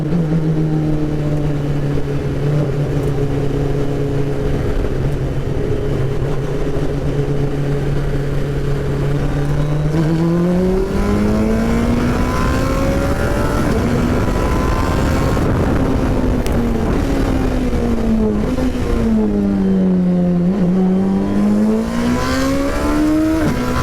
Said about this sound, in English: apparently this is like a pretty rare thing to be able to practice a race start on a track